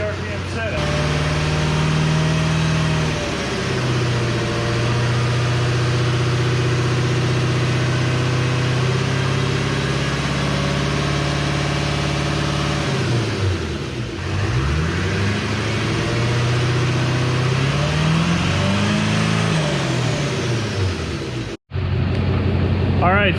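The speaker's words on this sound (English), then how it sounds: "this is working fantastic on the old Isuzu Commonrail here" An old Isuzu common rail diesel engine runs steadily at a low, even idle close by, with someone talking over the continuous drone and a brief dropout near the end.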